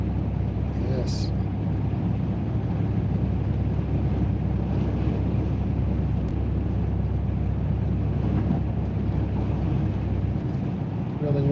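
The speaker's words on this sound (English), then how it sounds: "Really windy today." Strong wind buffets the microphone during a driving lesson on the road, a loud, steady rumbling roar with gusting hiss that persists throughout.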